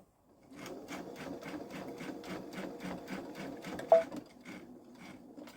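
A Babylock Solaris 3 sewing machine quilts a pumpkin pillow front in a steady, rapid run of rhythmic needle strokes, with one sharp click partway through and a brief voice at the start.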